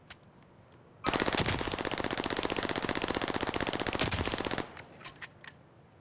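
Sustained rapid automatic gunfire from a shooter video game, loud and continuous for about three and a half seconds before cutting off, followed by faint scattered game sounds.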